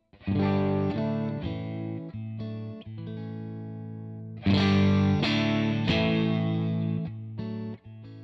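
Distorted electric guitar through a captured amp profile on a Quad Cortex rings out loud and driven, several strummed chords with sustained crunchy tone, a brief pause, then harder strikes near the end.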